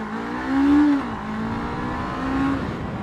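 A Honda CBR 500R sport motorcycle engine rises and falls in pitch as it accelerates, a steady nearby whine swelling twice over a few seconds with no talking.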